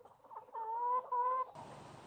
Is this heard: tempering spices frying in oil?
no